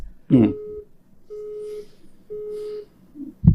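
A phone call ringing tone sounds in three even, steady pulses about a second apart, with a voice speaking briefly before the first ring and again at the end.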